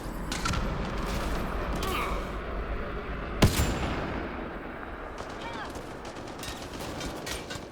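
Gunfire in the video game Mass Effect Andromeda, a dense steady rattle of shots throughout with one sharp louder crack near the middle, mixed under game voices.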